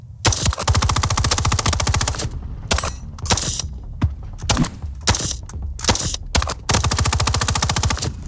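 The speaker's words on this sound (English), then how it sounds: "Reagan, load your mag. Get ready" Sustained automatic gunfire from a magazine-fed gun, loud and close: long rapid bursts of sharp reports, split by brief gaps and a few single shots, with no talking over it.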